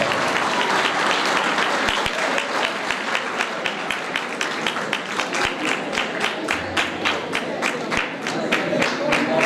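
Audience at a church-hosted student program in Shantinagar, Pakistan, applauding as a guest is welcomed to the stage, with dense steady clapping and distinct sharp individual claps throughout, loud and close.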